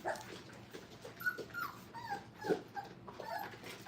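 Five-week-old puppies in a training kennel whimper and yip in short, thin bursts, faint and close, with no talking over them.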